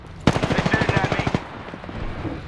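Rapid automatic gunfire from enemies in a shooter video game, a burst of about a dozen evenly spaced shots lasting just over a second, loud and close, followed by quieter background game noise.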